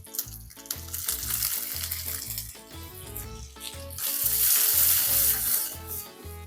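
Ginger, garlic, diamond-cut onions and bell peppers frying in a tablespoon of oil for dragon chicken, a steady sizzle that swells louder midway, heard under rhythmic background music.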